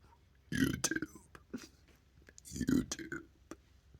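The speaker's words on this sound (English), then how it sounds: "That's fun to burp." A person lets out two loud, drawn-out burps, each followed by short, softer belching sounds and small mouth clicks, all close and with no ordinary speech.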